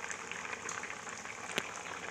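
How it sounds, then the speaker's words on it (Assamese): Mustard seeds sizzle and spit in a frying pan after water is poured in to simmer, a steady soft bubbling hiss with a faint sharp pop partway through. "এয়া সৰিয়হখিনি দি ভাজি পানী অলপ ঢালি দি দিছোঁ সিজি থাকিবলৈ দিছোঁ"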